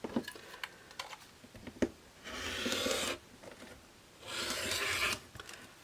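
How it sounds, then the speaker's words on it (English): Rotary cutter slicing a fabric quilt square along both diagonals for a half-square triangle block, heard as two sustained, moderately loud rasping cuts separated by a pause, with scattered soft taps and handling noises around them. "I'm now going to cut that square on both diagonals"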